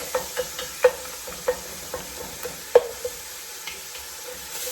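Ground bison meat browning in a pan with a wooden spatula: a low steady sizzle punctuated by sharp scraping and stirring clicks at irregular intervals, close and fairly quiet, with no speech.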